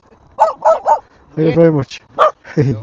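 A dog barks three times in quick succession nearby while passing on a Veteran Patton S electric unicycle, then someone speaks briefly.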